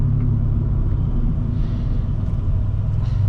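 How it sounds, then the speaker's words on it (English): A 2016 Scion FR-S with a six-speed manual and a boxer four-cylinder engine holds a steady, loud low-pitched drone and rumble from inside the cabin, constant throughout without clear revving changes. "I do like the sound also. I think it's sporty, very sporty for a 4-cylinder."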